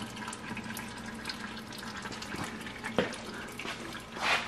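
Engine oil drains slowly from a 1951 Chevy pickup, a continuous close trickle and splatter of liquid with occasional drips and a brief knock. No voices are heard.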